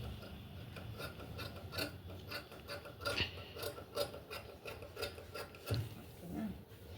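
Scissors cut away extra fabric from a joined blouse seam, a soft repeated rasping and snipping close by, steady through the clip with no talk.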